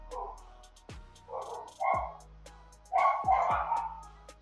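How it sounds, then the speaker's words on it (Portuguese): A small dog barks and yips several times in short bursts, fairly close, with a faint whimper between barks. "Desculpa pelo latido"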